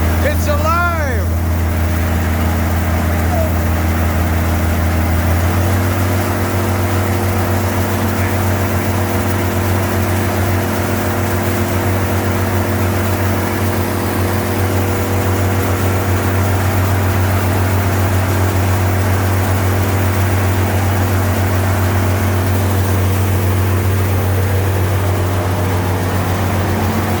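An LP-fueled Allis Chalmers D-19 tractor engine fitted with new pistons runs steadily at close range, a loud continuous low drone that steps up in pitch after a few seconds as the engine speed rises.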